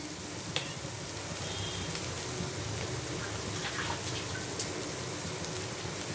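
Water is poured into a pan of sizzling bachelor-style egg pepper masala, a steady hiss of frying that runs evenly throughout with a few faint clinks and a soft trickle beneath.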